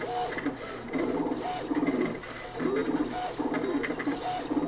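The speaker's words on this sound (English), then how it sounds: "it's going to go back and cut out each sticker and then cut out a perimeter around that" A Roland ColorCAMM Pro PC-60 printer-cutter cutting out stickers whirs in repeated short bursts, its motor buzzing and ticking rhythmically as the carriage moves back and forth, close and fairly loud.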